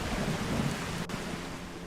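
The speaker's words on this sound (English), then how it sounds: "Actually don't like this rain." Steady rain with a low thunder rumble in the video game Skyrim, a constant hiss of downpour with no break, and one brief sharp crack near the end.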